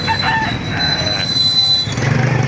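Roosters crow over a busy background of clucking chickens and general market noise at a chicken market in Calumpit, Bulacan, with no voices standing out.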